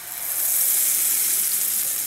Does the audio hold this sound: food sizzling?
yes